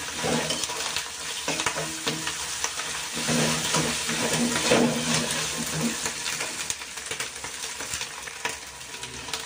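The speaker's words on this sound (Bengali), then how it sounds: "এটাকে দিয়ে ভালো করে আমি এটাকে মশলাটা ভেজে নেব, যাতে আদা রসুনের কাঁচা গন্ধ না আসে" Ginger-garlic paste masala fries in a pan for a chicken dish, giving a dense, loud sizzle with repeated stirring scrapes and spatula taps throughout, without speech.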